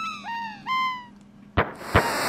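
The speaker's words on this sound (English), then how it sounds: "Little Super Nintendo birds." Chirpy electronic bird calls from the Super Nintendo game Chrono Trigger, two rising-and-falling synthesized tweets followed by two bright popping bursts, clear and alone without talk.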